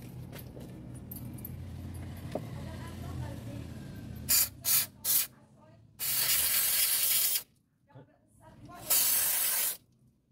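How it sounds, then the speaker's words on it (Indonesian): Cleaner sprayed onto the throttle body of a new Honda Brio in short bursts, a few quick hissing puffs followed by two longer sustained sprays, close and loud over a quiet workshop background. "Oke, kita pakai semprot. Semprot lagi."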